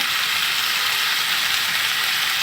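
Spice powders and onion paste fry in oil for a fish curry, a loud, dense, continuous hiss holding evenly from start to finish with no voices.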